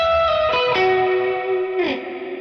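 Electric guitar through a Mercury X Cathedral Choir preset with overdrive rings out in sustained, shimmering chords with a few picked changes, close and loud with a lush, washed tail.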